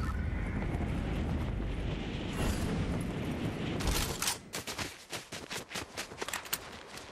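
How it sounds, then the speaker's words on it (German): Gunfire from a firefight off in the woods during a Fortnite match, with a dense rumbling wash of noise first, then a run of sharp, separate cracks and bursts over the last few seconds. "Links sind Schüsse. Hier ist auch ein Gunfight, da vorne im Wald."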